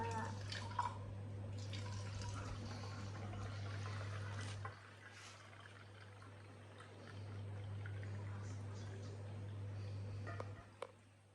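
Water pours into a bowl to make homemade play dough, a continuous splashing trickle that pauses briefly midway and then resumes. A low steady hum runs underneath.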